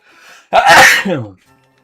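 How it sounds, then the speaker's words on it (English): One loud, close sneeze bursts out after a quiet breath in, ending with a short vocal tail. "I had to sneeze."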